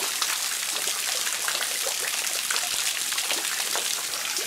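Steady, dense patter of water dripping and splashing from a moss-covered rock overhang in the Blue Mountains at Lawson, falling like a shower, close and continuous with no voices.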